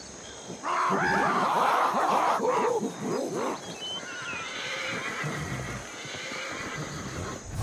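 A horse in the video game Ancestors: The Humankind Odyssey whinnies loudly with a quavering, falling neigh, followed by softer snorts and faint hoof sounds against a quiet outdoor background.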